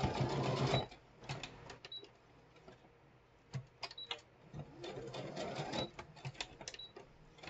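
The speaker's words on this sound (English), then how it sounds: "I gotta sew it." A sewing machine stitches through cardboard embellishments in short, intermittent bursts with pauses between runs, fairly quiet and alone without talk.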